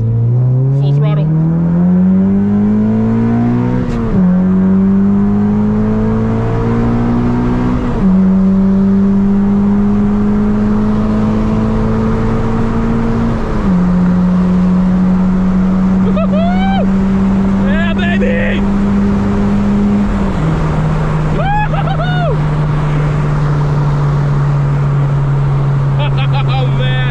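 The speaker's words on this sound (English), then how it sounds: "We're going to do a nice big rip. Full throttle." A 2015 Honda Civic Si accelerates hard at full throttle onto a freeway at night, its engine rising steadily through several gears with brief dips at each upshift, loud and continuous from inside the cabin, with a voice talking over it.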